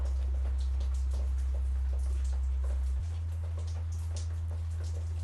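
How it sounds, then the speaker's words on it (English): A deep hip hop style sub bass note doubles a tuba-like bass line in a video game score, a steady low drone that shifts pitch once partway through, faint orchestral texture above. "Is I'll take that same bass note and I'll sub it down to like a hip hop sub sound like this."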